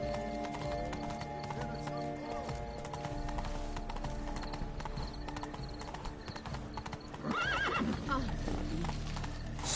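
Horse hooves clip-clop in a steady galloping rhythm in The Witcher video game, close and continuous, with a whinny near the end and game music underneath.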